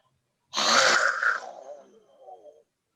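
A single loud, raspy throat clearing, rough and guttural at first, then trailing off into a lower rumbling rasp before silence.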